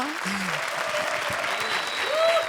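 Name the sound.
studio audience applause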